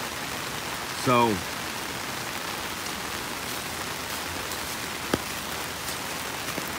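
Steady rain patters on a surface and umbrella outdoors during a flood at a campsite, with leaves clogging the drainage; a short voice sounds briefly near the start, then the hiss of rainfall continues alone with a faint tap later.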